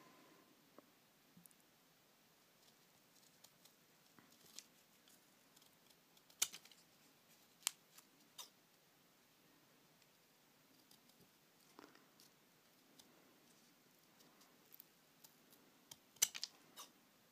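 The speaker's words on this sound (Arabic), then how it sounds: "هلا منجيب المقص ومنقصه، منقصه بشكل الورقة." Scissors snip through paper while cutting out shapes for a handmade paper and cardboard gift, giving faint, sparse crisp clicks and cuts at irregular intervals against a quiet room.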